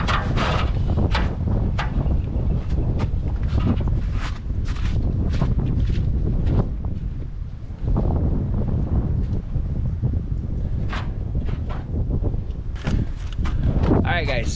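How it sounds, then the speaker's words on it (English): Steady wind buffeting the microphone outdoors at an off-grid cabin, a constant low roar throughout, with occasional knocks and rustles mixed in. "sorry about the wind, nothing I can do about it"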